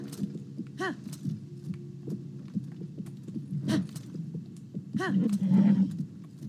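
A horse's hooves clip-clop in the video game Zelda: Tears of the Kingdom, with soft, evenly paced thuds over a low hum. A few brief tonal game sounds and a voice come in between the steps.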